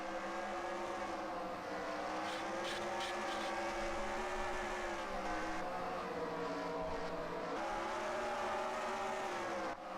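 Simulated race cars roar around the Eldora dirt oval in a racing video game, a dense, continuous engine drone with shifting pitch as cars pass, steady and loud throughout the pack.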